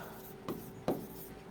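A pen or pencil writes a sentence on paper in two brief, quiet scratchy strokes, close by and otherwise near silent.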